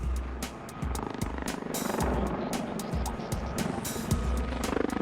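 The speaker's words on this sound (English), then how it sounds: "It's the Westland Lynx." Westland Lynx helicopter passing close and loud, steady rotor chop and engine whine with rhythmic low thumps throughout, no voices.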